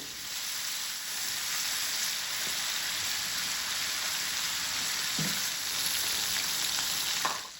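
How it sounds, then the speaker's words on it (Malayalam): Boneless chicken pieces frying in oil in a pan, a steady dense hiss of sizzling throughout, fairly quiet and close, with a few soft stirring knocks near the end and no speech. "ഇതിനകത്ത് മിക്സ് ചെയ്ത് വെച്ചിട്ടുള്ള ചിക്കൻ നന്നായിട്ട് ഫ്രൈ ചെയ്യുന്നുണ്ട്"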